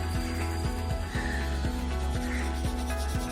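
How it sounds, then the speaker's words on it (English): Colour sketch pen rubbed back and forth on a sheet of polythene, a steady scratchy rubbing with regular strokes roughly every half second, close and continuous with no talking. "you have to rub the color sketch pen on it"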